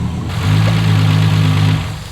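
A Nissan R34 Skyline's swapped RB30DET engine idles steadily up close at operating temperature, a low even hum with a faint ticking from a slightly noisy cylinder head.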